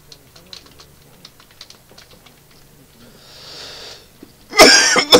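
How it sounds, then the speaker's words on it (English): A loud, harsh cough bursts out close to the microphone during a computer modelling session, following several seconds of quiet, scattered keyboard typing. "Pardon me, I've got a bad cough."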